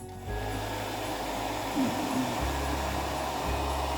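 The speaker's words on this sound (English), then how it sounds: "Right, now, hairdryer moment." A hair dryer blows hot air over resin art up close, a steady loud whooshing whine with a slight hum that drops in pitch partway through.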